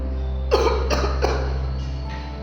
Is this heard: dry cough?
yes